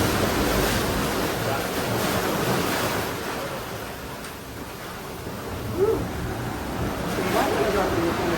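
Sea waves surging in at a beach in Goa, a broad rushing wash that swells and eases, with wind buffeting the microphone and faint voices in the background.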